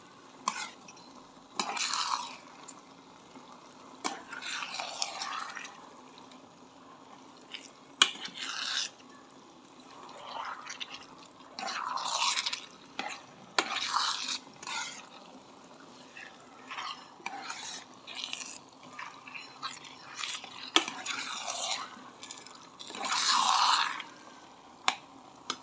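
Spaghetti noodles being stirred into pork spaghetti sauce in an electric cooker, repeated wet squelching and scraping strokes in an irregular rhythm with faint utensil clicks and a low background sizzle.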